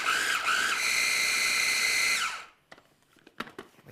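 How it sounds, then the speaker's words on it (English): A food processor grinds walnuts with a loud, steady high whir for about two seconds, then stops. Afterward come a few faint clicks and knocks. "Now I'll pulse this to grind it up finely."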